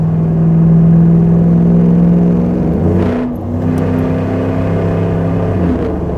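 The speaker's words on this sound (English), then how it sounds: "3-inch stainless steel system, front to back, catalyst converters, you name it, it's all there" A 550hp LS3 V8 in a Land Rover Defender idles with a deep, throbbing rumble through a 3-inch stainless exhaust with quad tips, dips briefly as the throttle blips, then settles back into a steady low burble.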